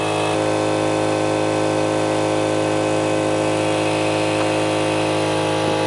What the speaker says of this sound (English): Come on, air compressor.